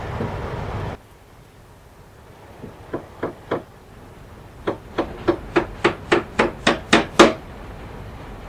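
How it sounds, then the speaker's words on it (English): A hammer strikes wood in a string of sharp knocks, first three spaced blows and then a faster, louder run of about nine, heard alone over a low steady background hum. "He's hammering again."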